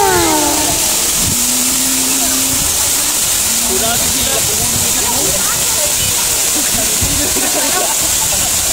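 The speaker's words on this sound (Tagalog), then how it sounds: "So, mo ni siya ang Kamandag Falls." Kamandag Falls, a waterfall in a natural setting, gives off a steady, loud broadband roar throughout, with a person talking over the rushing water.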